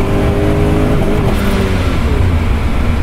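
A 370 WHP supercharged Porsche 928S with an old automatic gearbox accelerating hard on a race track, a loud, close, steady engine roar climbing in pitch with no talking.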